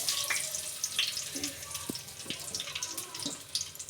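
Curry leaves dropped among popping mustard seeds in hot oil give a steady close sizzle and crackle, with a few sharper spits and pops scattered through it, on a kitchen stove while cooking a tender jackfruit vegetable dish.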